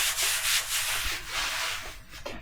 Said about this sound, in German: nach einem ersten schnellen Schleifen mit einer 120er Schleifscheibe